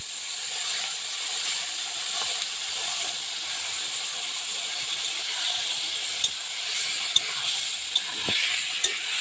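Chicken sizzling steadily after being poured into hot oil, a continuous frying hiss with a few sharp pops and crackles of stirring near the end, no talking.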